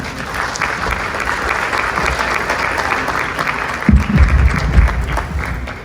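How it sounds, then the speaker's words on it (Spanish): A conference audience gives a round of applause, sustained loud clapping filling the room, with a few low thumps and brief voices surfacing toward the end. "Un aplauso, por favor."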